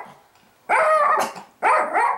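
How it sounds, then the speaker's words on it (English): Dogs barking indoors by an open door, two loud, close barks about a second apart, the first drawn out with a growling edge. "And they bark at every dog that walks by."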